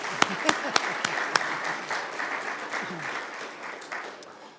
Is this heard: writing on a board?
no